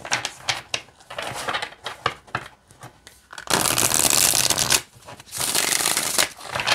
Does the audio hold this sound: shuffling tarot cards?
yes